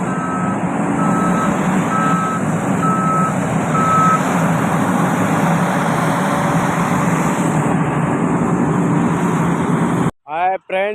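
A truck being loaded at a machine gives short, evenly spaced reversing beeps over a loud, steady engine rumble for the first few seconds, with the engine drone continuing throughout and a brief voice near the end.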